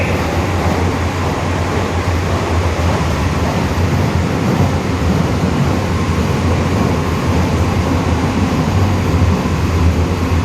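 An air-conditioned EMU suburban train running between Mambalam and Tambaram gives a steady, loud, unbroken rumble and rush from inside the carriage.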